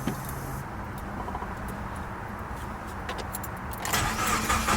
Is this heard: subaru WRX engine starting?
yes